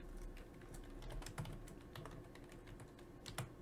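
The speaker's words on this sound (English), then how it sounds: "in text effect I type" Quiet, steady keystrokes on a computer keyboard as someone enters text in a game-maker editor, with uneven clicks and short pauses and no talking.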